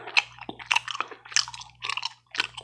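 Gum chewing close to the microphone, wet squishy smacks and clicks in an uneven rhythm of about five bursts, loud and intimate with no talking.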